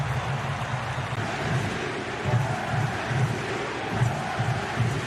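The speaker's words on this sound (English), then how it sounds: "Crowd serenades Acosta as he swings in the corner." Football stadium crowd at an Inter Miami match serenading player Acosta as he takes a corner, a dense, steady roar of massed fans with rhythmic swells of chanting repeating throughout.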